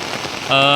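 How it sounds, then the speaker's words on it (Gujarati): A brief burst of dense rain noise, steady and close, with a tonal sound rising in the final moment. "અત્યારે ફૂલ એવો વરસાદ ચાલુ છે મિત્રો અહીંયા"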